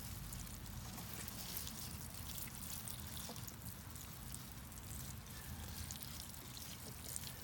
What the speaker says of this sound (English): this time I'll give them a deep watering.